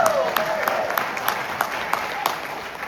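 Applause from an audience at a political campaign speech in Tennessee, a steady crowd clapping with sharp individual claps over a fading voice at the start.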